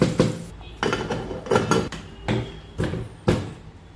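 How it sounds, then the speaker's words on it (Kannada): A pressure cooker lid is fitted and locked shut in a home kitchen, with about six sharp metallic clanks and scrapes in an uneven rhythm, close and fairly loud, with no talking. "ಕುಕ್ಕರ್ ಮುಚ್ತೇನೆ. ಕುಕ್ಕರ್ ಮುಚ್ಚೋಣಂತೆ."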